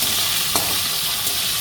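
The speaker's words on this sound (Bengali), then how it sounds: "তেলটা গরম হয়ে গেছে, আমি এবার চিংড়ি মাছগুলো দিয়ে দিচ্ছি" Prawns frying in hot oil, a steady loud sizzle with a couple of faint stirring clicks, no voices.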